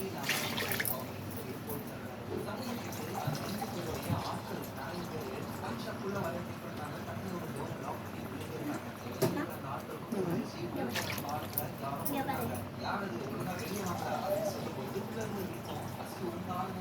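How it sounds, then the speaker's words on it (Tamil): Water poured into a cooking pot while making barota salna shorba, a soft liquid splashing and trickling under the clatter of kitchen handling, with a voice talking over parts of it. "இப்போ நான் என்ன பண்ண போகிறேன்னா தேவையான அளவு தண்ணி சேர்க்க போகிறேன்"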